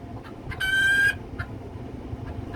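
A hen in a chicken coop gives an alarm call: one loud, drawn-out squawk of about half a second, framed by a few short clucks over quiet farmyard background.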